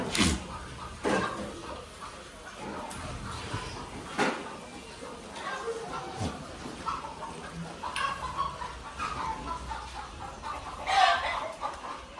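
Hens clucking on a goat farm, with repeated short clucks and squawks at varying distances over a steady outdoor background, and faint human voices now and then.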